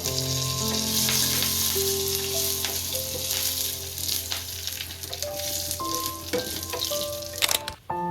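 Curry leaves hit hot oil in a pan and crackle and sizzle loudly and continuously, with a few spoon taps and stirring clinks while preparing street-style pav bateta.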